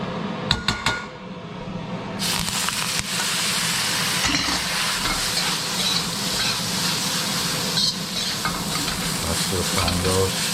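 Singapore noodles frying in oil in a hot pan, a loud, steady sizzle and hiss with stirring and scraping, preceded by a few clinks of utensils, close up and with no talk.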